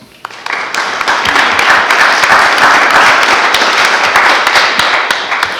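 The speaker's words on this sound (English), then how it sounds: "Let's give him a round of applause" An audience applauds a newly introduced panelist at a Tufts Fletcher School scholar event, a dense, steady wash of many hands clapping at close range, swelling quickly and holding for several seconds before easing slightly.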